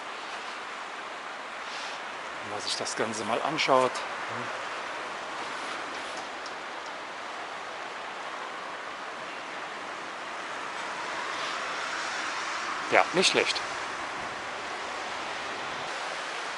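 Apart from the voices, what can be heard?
flooded river Blies rushing with water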